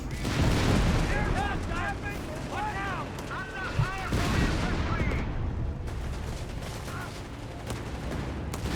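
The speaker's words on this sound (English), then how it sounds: "they're being hit with bazooka fire and anything on fire" Bazooka fire and explosions roar through a World War II battle in Company of Heroes 3, a dense, continuous wall of booms and gunfire with a voice briefly rising over the din.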